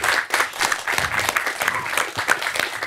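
Enthusiastic applause from a crowd, dense and loud with rapid overlapping claps, sustained without a break.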